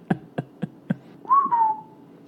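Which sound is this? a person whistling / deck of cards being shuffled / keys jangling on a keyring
a person whistling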